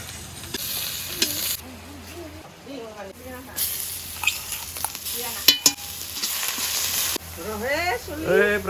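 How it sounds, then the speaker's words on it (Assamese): Elephant apple (outenga) and onion sizzle in a pan in a village kitchen, a hissing fry that rises and falls with stirring while a person talks over it. "ইফালে পিঁয়াজ আৰু এতিয়া আমি ঔটেঙাখিনি ভাজি দিম"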